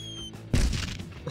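A sticky bomb bursts in Garry's Mod with a single sudden, loud blast about half a second in, then its rumble fades over the next moment.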